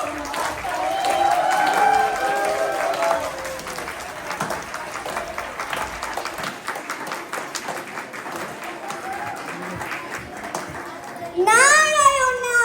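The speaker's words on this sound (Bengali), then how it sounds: "সবে মিলে হাততালি অবশ্যই দিও" An audience claps steadily after a children's Bengali New Year play in the San Francisco Bay Area, with dense, continuous applause mixed with children's voices and chatter, swelling louder near the end.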